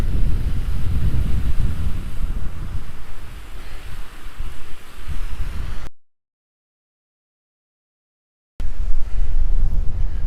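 Wind gusting against the microphone during a walk by a lake on a chilly May morning, a loud, rough rumble that cuts out briefly to silence before returning.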